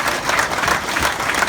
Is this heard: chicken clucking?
no